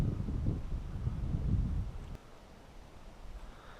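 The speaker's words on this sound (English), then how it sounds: "It's really windy" Gusty wind buffets the microphone beside a pond on a fishing outing, a loud rumbling blast for about two seconds before dropping to a softer, lingering rush.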